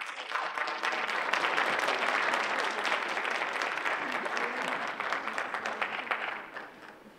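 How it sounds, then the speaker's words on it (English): Audience applause at an international talent show, a sustained wash of clapping that swells quickly, holds steady for several seconds, then thins and fades out near the end. "So let's give a nice round of applause to Cassidy."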